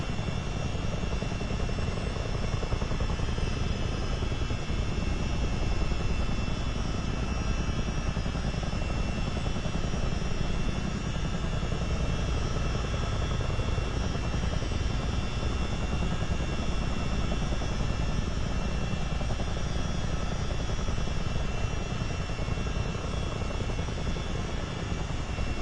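Simulated helicopter in Microsoft Flight Simulator 2024, flying near offshore oil rigs, gives a steady, loud rotor and turbine drone that holds unbroken for the whole span with no talk over it.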